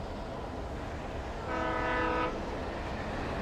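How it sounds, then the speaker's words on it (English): Train in the video game Alan Wake, with a horn blast sounding over a steady rumbling background, loud and sustained for under a second before fading back into the rolling noise. "Train."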